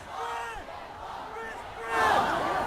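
Huge protest crowds in Chinese cities and at universities, demonstrating against the zero-Covid policy: many voices chant and shout in unison at a distance, rising into a louder collective roar near the end.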